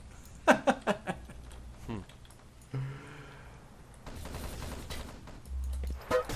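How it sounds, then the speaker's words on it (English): Gunfire bursts in a competitive first-person shooter match, a quick cluster of sharp shots early, then scattered rattling fire and noisy in-game action under commentary voices. "Nice shooting by Red."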